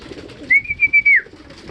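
Racing pigeons coo during sprint-race training, a short soft burst of a few quick pulsing notes that rises and falls, heard fairly close over quiet background murmur.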